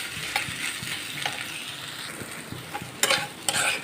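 A spatula stirs spiced potato filling in a pan over a low flame, scraping the metal in short, uneven strokes over a faint, steady sizzle. Several sharper scrapes land near the end.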